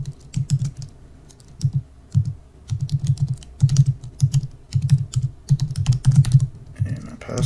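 A password being typed on a computer keyboard at close range: bursts of crisp, rapid key clicks separated by brief pauses, steady and fairly loud, with no voices.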